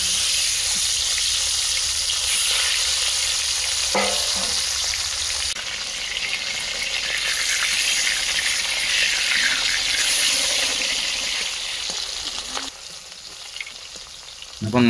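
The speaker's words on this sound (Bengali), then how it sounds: "একই পদ্ধতিতে বাকি যে মাছগুলো ছিল ওগুলো ভেজে নেব।" Sole fish frying in oil in a pan, giving a steady, close, loud sizzle that runs throughout, with brief clinks and a shift in texture as pieces are moved.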